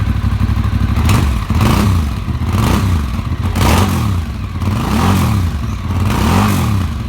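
A Moto Morini scrambler motorcycle engine runs loud and close, with a throbbing idle and repeated rising and falling revs in a regular rhythm.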